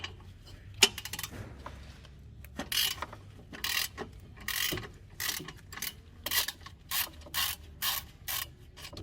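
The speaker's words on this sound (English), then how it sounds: "we're gonna go ahead and loosen back this bolt" A hand ratchet loosens a bolt on the downpipe of a BMW 335i with the N55 engine. After a few scattered clicks, crisp bursts of rapid ratcheting repeat in a steady rhythm, close up and with no talk.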